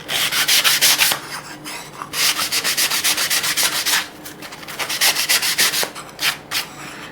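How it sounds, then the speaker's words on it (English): Rapid rhythmic rubbing as a sanding sponge is worked back and forth along deburred metal edges in bursts, steady and close, with brief pauses between runs. "maybe with a sanding sponge."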